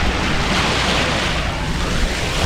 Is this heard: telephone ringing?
no